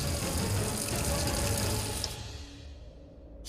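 Water gushes steadily from a bathroom tap, a loud continuous hiss that fades and thins toward the end as the flow is shut off.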